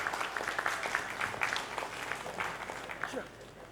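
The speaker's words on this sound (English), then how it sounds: "please give a big round of applause" Applause from a crowd at the opening of the National Pulses Seminar 2017 conference, a dense patter of clapping at moderate volume that thins out toward the end.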